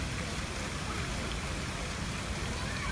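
Water pours steadily from a giant Mad Hatter hat onto a pool play area at Disney's Grand Floridian Resort, a loud, continuous rushing splash with no breaks.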